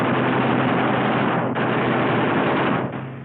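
Eight aircraft machine guns fire together at a fast cyclic rate, a dense continuous roar of rapid shots with no gaps, loud and unbroken until fading slightly at the end.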